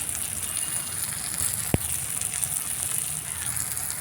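Steady sizzling and crackling from a spice paste with turmeric and Kashmiri chilli powder frying in a pan, a close continuous hiss with one brief sharp tap.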